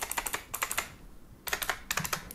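Keys tapped across a membrane gaming keyboard, bursts of sharp clicky presses in quick clusters with short pauses between, close-up and distinct with no talking.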